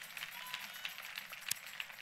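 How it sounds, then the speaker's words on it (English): A church congregation claps during a sermon, producing a steady, diffuse patter of many hands heard from a distance. The clapping is fairly faint and continuous, with a single sharper clap standing out partway through. "Give the Lord a clap offering."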